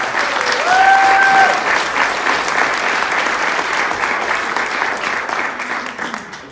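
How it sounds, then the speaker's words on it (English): A crowd at an association gathering in Connecticut gives Matt a round of applause, loud and full at first and then easing slightly but staying dense, with a brief whistle near the start. "So, another round of applause for Matt."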